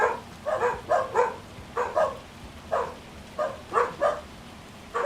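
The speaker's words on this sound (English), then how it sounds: "Doggos." Dogs in the Farming Simulator 25 video game bark in short clustered bursts, about eight spread across the stretch, fairly close and clear over a faint steady background hiss.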